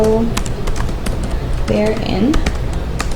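Unhurried clicking on a computer keyboard, scattered single keystrokes with gaps between them, close-miked and crisp under a person speaking.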